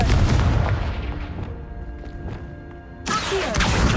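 A Confringo spell blast in Hogwarts Legacy, a heavy booming explosion that rumbles and fades over a few seconds before a second loud burst erupts near the end.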